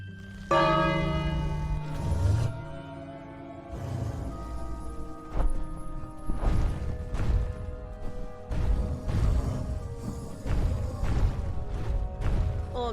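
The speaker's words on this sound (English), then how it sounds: "Then ring the gong." A gong rung in King's Quest gives one big resonant metallic strike with a long ringing decay, followed by a run of heavy clanging hits and crashes over several seconds, loud and close.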